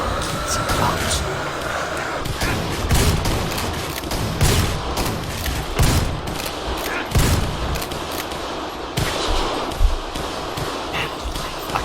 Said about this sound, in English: I can't tell which bullets are from the good guys and which ones are from the bad guys